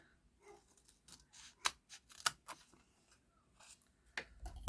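Scissors cut out a paper seahorse for a handmade card project, giving a series of short, irregular snips and paper rustles close by in a quiet room, with no voices.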